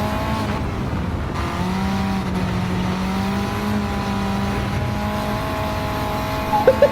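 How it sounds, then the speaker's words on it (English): A Renault race car on a track in Gran Turismo pulls hard through its gears, a steady high engine whine climbing in pitch and holding loud and close, with a brief tire or impact noise near the end and no voices. "Look at this Renault go"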